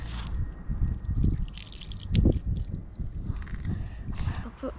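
Water splashes and pours over a part from a Honda CRF110 motorcycle during a basic service, a broad, uneven rushing that surges and dips for several seconds close by.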